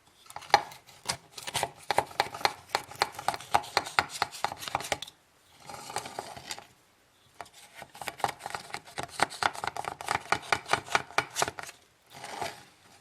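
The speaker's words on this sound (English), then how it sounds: "I'm going to take a sharp knife and go around the perimeter to loosen the crust" A sharp knife is run around the rim of a chilled New York style cheesecake in a springform pan to loosen the crust, making rapid rhythmic scraping and tapping strokes in bursts with brief pauses, close and fairly quiet, with no talk.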